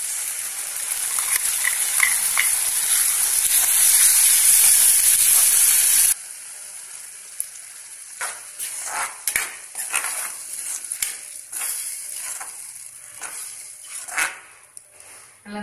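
Onion chutney cooks in a pan on medium heat, starting with a loud, steady sizzle. It then drops to quieter bubbling broken by scattered scrapes and clinks of a spoon stirring against the pan.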